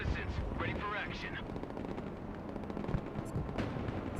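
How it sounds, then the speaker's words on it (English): Weapons fire in the real-time strategy game Broken Arrow as an anti-tank missile launches amid a dense, continuous roar of gunfire and explosions, loud and sustained throughout. "It's an anti-tank missile."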